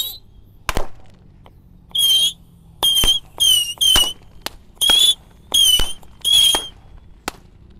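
A rocket box firework sends up a series of about seven loud whistling, shrieking launches in quick succession, each a sharp burst with a rising squeal, punctuated by short pops and cracks close by.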